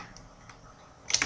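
A computer keyboard is typed on briefly while text is entered in Photoshop: a quiet pause, then a short quick burst of clicking keystrokes near the end.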